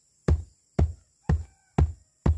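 Hollow ground at Ganrang Baloro, Tompobulu, Maros, booms like a drum when stepped on: five deep, evenly spaced thuds, each dying away quickly, with a faint steady hum behind them.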